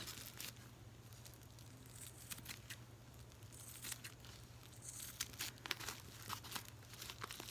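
Sewing scissors snip and crinkle through fabric being trimmed for Maori poi balls, giving close, quiet, irregular cutting and rustling sounds over a low steady hum.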